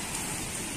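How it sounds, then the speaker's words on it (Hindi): Steady rain pouring in a Pakistani village, a dense even hiss of drops on surfaces with no voices. "बड़ी बेहतरीन बारिश होनी भाई"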